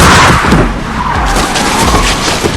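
Tires skid loudly on the road in a car accident, a harsh, continuous screech that stays loud and steady for the whole moment, close up and with no voices.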